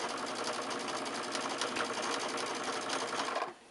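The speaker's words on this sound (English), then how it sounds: "I go along, starting my 1/4 inch seam along here." A sewing machine runs steadily and close up while stitching a quarter-inch seam on an hourglass quilt block, a continuous whirring hum that stops abruptly near the end.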